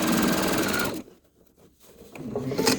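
A sewing machine stitches a quilt seam through charm squares in a short, rapid mechanical whir, then pauses briefly before restarting near the end.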